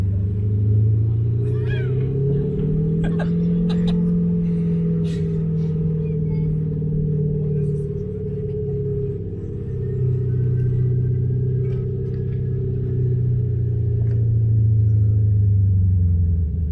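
A loud car engine and exhaust roar continuously, a deep rumbling drone that swells and dips slightly, with faint voices and street sounds above, among old buildings on a Paris-to-Monaco road trip.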